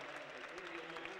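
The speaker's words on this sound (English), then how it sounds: "Good round of applause from the fans here at the Muni." Crowd of basketball fans applauding at the Muni during an NAIA men's national tournament quarterfinal, a steady faint wash of clapping under a commentator's voice.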